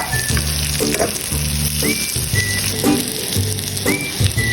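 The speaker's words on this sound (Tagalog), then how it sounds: "Sibuyas, bawang na ilagay na guys." Onion, garlic and ginger frying in a pan: a strong continuous sizzle with regular scraping stirs, close and loud, while a faint rising whistle-like tone repeats in the background.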